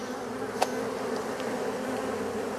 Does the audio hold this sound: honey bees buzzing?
yes